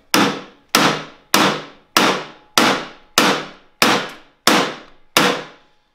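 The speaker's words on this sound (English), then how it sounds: "I'm just hammering. Just break it? I mean, not necessarily break it, just start hitting down on the lock." A hammer strikes the lock of a metal toolbox nine times at a steady, even rhythm, each blow a loud, sharp, close crack that dies away quickly before the next.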